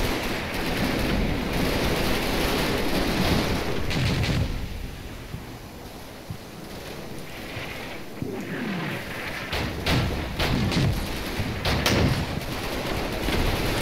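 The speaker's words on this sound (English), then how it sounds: "Got some mortar fire coming in, also to try and suppress the enemy on the other side of the hedgerow." Mortar fire lands around a hedgerow in France, September 1944, in the Combat Mission war game, with repeated heavy thumps and crackling gunfire bursts, loud and irregular, easing briefly midway before resuming.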